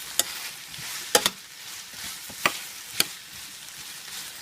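Potatoes and tomato stirred in a pan for homemade corned beef, with soft scraping strokes and a few sharp clinks of the utensil against the pan over a quiet steady sizzle.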